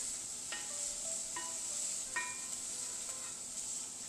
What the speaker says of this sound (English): we have olive oil in, some green onion, and the prosciutto. And that's frying up.